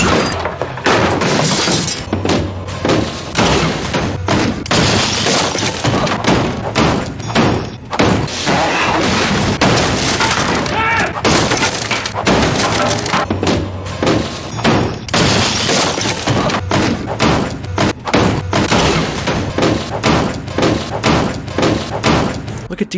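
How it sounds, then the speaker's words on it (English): Supernatural TV episode scene in which a house is smashed to bits, with dense, continuous loud crashing, thuds and breaking glass packed with rapid impacts, and voices mixed in. "Sam and Dean, the wrecking crew, show up to smash the whole thing to bits"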